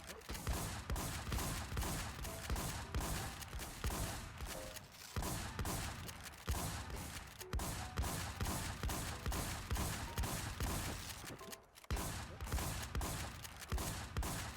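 Steady rapid gunfire in a PvP shooter video game, dense repeated shots that keep going almost without a break. It is fairly quiet overall, with a few brief gaps, and people talk over it.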